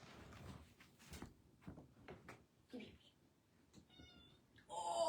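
A cat named Bean meows in protest at being picked up, with short cries mixed among nearby human talk and a louder, drawn-out meow at the end.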